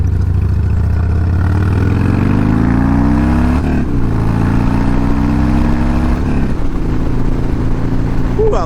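A Harley motorcycle engine rumbles loud and close during a ride, its pitch rising and falling as it revs and shifts, with wind rushing steadily over the whole stretch.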